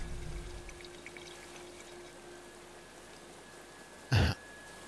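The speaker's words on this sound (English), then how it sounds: "Get ready for water extraction." Water drawn up by a helitanker over a wildfire zone by a river in Life is Strange 2, a brief loud rushing splash near the end after a long, quiet ambient stretch.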